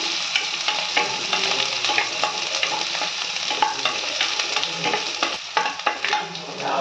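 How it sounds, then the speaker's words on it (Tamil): Small onions and curry leaves sautéing in a pan for mutton kola urundai kuzhambu, with steady sizzling, frequent stirring scrapes and spatula clicks close by, no voices. "கொஞ்சம் கருவேப்பிலை நல்லா வதக்குங்க"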